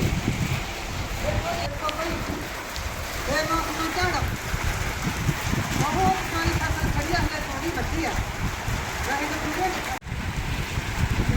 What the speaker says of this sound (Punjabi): ਬਹੁਤ ਜ਼ਿਆਦਾ ਮੀਂਹ ਪੈ ਰਿਹਾ ਨੇਰੀ ਆ ਰਹੀ ਹੈਗੀ ਹਵਾ